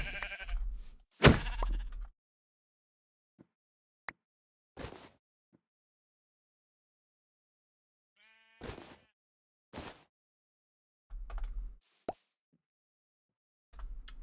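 Minecraft sheep give short bleats among scattered soft plops and thunks in a quiet game world, each sound brief and separated by long silences.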